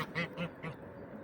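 Three short nasal honks in quick succession from nearby Toulouse geese, followed by quiet.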